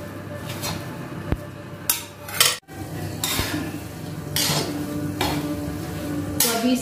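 Carrot halwa roasting in ghee in a pan while being stirred, with loud metal scraping strokes and spoon clanks over a continuous sizzle, repeating every second or so close up.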